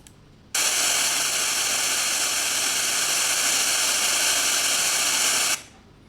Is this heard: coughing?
no